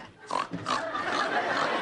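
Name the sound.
person imitating a pig oinking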